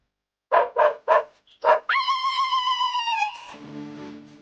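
A dog gives four sharp, close barks in quick succession, then lets out a long drawn-out whining howl that drops in pitch and trails off.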